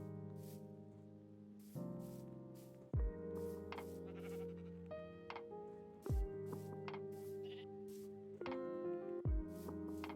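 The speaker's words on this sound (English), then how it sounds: "I lured some sheep over to a sheep pit because you can't have a sheep pit without sheep" Sheep in the Minecraft video game bleat repeatedly in short wavering calls, several overlapping in bursts with brief pauses between, close and clear with no talk.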